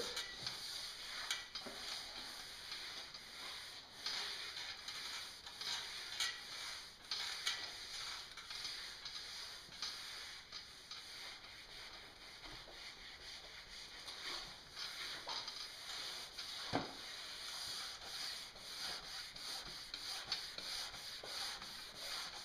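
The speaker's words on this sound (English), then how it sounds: "I just take a Scotch-Brite and just run the length of the board." A Scotch-Brite pad rubs along the length of a waxed snowboard base, a steady close scratchy scrubbing that continues in repeated strokes with no talking.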